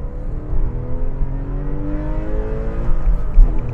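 A Porsche 911 996 Carrera with a six-speed manual revs hard, its flat-six engine note climbing in pitch through rising sweeps, loud and close from start to end.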